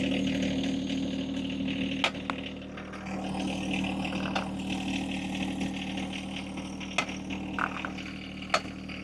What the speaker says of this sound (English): push forward, raise the tractor's front end up